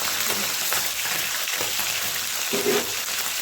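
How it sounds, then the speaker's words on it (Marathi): Pieces of beef fat fry in hot oil in a pan, giving a constant dense crackling sizzle heard up close for the whole stretch, with faint bubbling pops and no talk. "हे बघा तेल गरम झालेलं आहे, त्यातही आपण चरबी टाकू. चरबीचं तेल सुटेपर्यंत जरा भाजून घ्यायचं."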